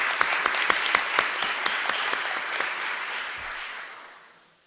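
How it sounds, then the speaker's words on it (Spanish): A church congregation at a novena for the Virgin of Fátima claps in a dense, steady burst of applause that stays strong, then thins and fades away near the end. "Un fuerte aplauso para todos ustedes"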